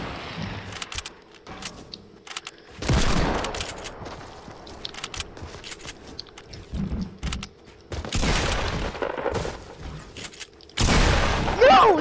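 Gunfire and explosions in the Fortnite video game, with loud broadband bursts and booms in several separate bouts, plus softer clicks and in-game noise between them.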